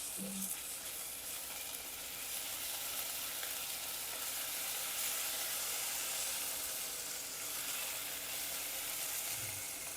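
Ginger garlic paste fries in a pan during cooking of elephant foot yam bhaji, giving a steady close hissing sizzle that runs throughout, with faint stirring scrapes underneath.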